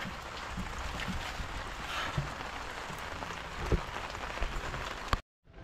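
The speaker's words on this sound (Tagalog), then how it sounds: "Malakas ang ulan." Heavy rain drums steadily on a surface close by, with a few louder thumps, before cutting off abruptly.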